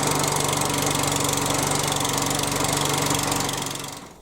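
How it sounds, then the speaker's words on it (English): A Hyundai HYM430SPER petrol lawnmower engine runs close by with a steady, rapid chugging drone, then cuts out and winds down near the end. "I can manually start the lawnmower"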